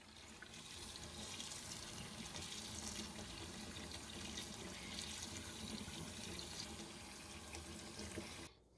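Tap water runs steadily into a kitchen sink as black currants are rinsed under it, a continuous close splashing hiss that holds evenly for several seconds before cutting off.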